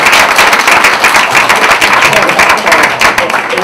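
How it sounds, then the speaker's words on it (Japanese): Audience applause of thanks at a Japan Economic Revitalization Headquarters meeting, a dense, steady burst of many hands clapping close and loud for the full stretch. "みんなで感謝の拍手を申し上げたいと思います。"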